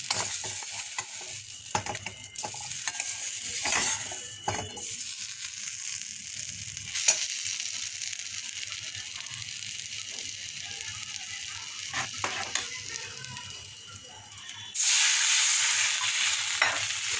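Spiced ghugni is stirred and fried in a pan, a spatula scraping and knocking in scattered clicks over a soft sizzle that swells louder near the end, heard close with no talking.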